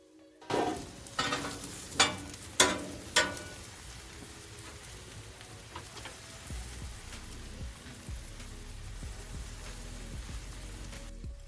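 Zucchini and other vegetables sizzle on a Blackstone griddle, a steady close hiss with several sharp clanks of a utensil early on, then continued frying crackle alone without talk.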